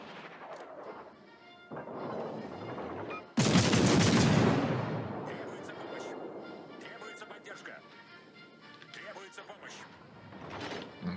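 Naval gunfire from warship guns in the game World of Warships Legends, with HMS Leander in the action: a loud booming salvo bursts in after a quieter stretch and rumbles away, with fainter shots and sounds of battle around it.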